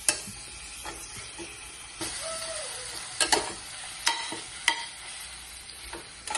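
Onion frying over a low flame in a pan with ginger-garlic paste, a steady soft sizzle with scattered scraping stir strokes and clinks, close by, no talk.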